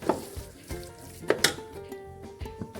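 Grated carrot halwa roasting in a pan, a close sizzle broken by repeated spoon scrapes and light clinks against the metal at an uneven pace.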